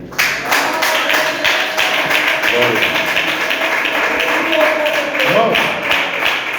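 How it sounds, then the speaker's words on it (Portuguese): A church congregation claps joyfully in praise during a service, a steady, lively rhythm of many hands filling the room, with voices and a short spoken word over it. "Todos podem se assentar e exaltar o Senhor Jesus com as palmas bem alegres."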